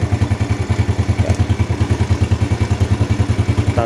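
A Yamaha Vega R motorcycle engine idles during a carburetor tune-up, a close, steady rhythmic putter with even low pulses and light mechanical clatter, with no voices.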